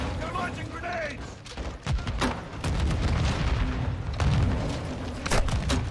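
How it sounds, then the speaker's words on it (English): Grenade blasts and gunfire in the video game Modern Warfare 2 rumble with heavy booms and sharp cracks over a constant loud battle din, with a voice briefly heard. "They're launching grenades."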